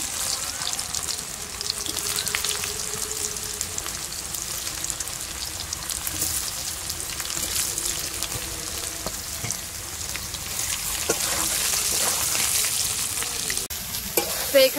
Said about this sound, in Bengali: সেদ্ধ করে রাখা আলুটা আবার একটু ভেজে নিচ্ছি।